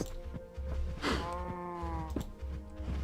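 Minecraft cows below the player let out drawn-out, wavering moos that overlap one another, with soft thuds and clicks underneath.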